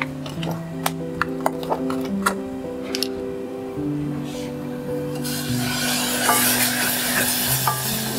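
Broth stirred into miso soup in a pot, a steady scraping swirl with soft rubbing strokes that grows busier and brighter toward the end, faint low hum beneath.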